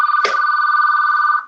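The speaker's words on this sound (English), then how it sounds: "if you could put yourself on mute if you have a ringing phone" A telephone rings during an online meeting with a steady electronic trilling tone that holds for over a second, loud and clear after a brief click near the start, with no talking.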